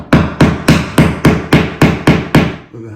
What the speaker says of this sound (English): with a hammer and just bang it flat.